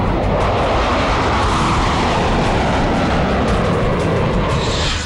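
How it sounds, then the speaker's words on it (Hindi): Mirage 2000 and Su-30 fighter jets roar over the mountains of Ladakh in a dense, loud, continuous rumble of engine noise that fills the sky without letting up, with no voices. "लद्दाख के शांत गगन को भेदते मिराज 2000 और Su-30"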